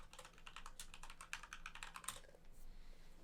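Fast, steady typing on a computer keyboard, a close run of crisp clicks and clacks that thins out toward the end, with no talking.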